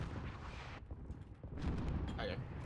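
Booming cannon fire from an AC-130 gunship during a Call of Duty Modern Warfare match, low rumbling blasts under constant battle noise, with bits of speech mixed in.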